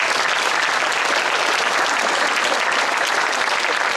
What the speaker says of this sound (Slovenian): En aplavz tudi za to, lepo prosim.